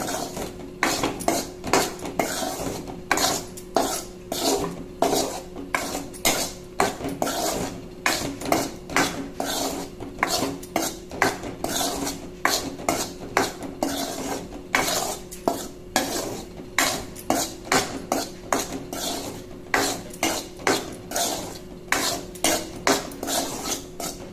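Ragi flour dry-roasting in a pan as a spoon scrapes and knocks steadily against the metal, a loud, continuous rhythmic stirring close up with no voices.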